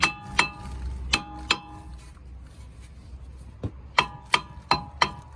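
Sharp metallic strikes ring out against a stuck brake disc on a Honda, arriving in irregular clusters of two or three hits with quiet gaps between them, close and clear, with no talking.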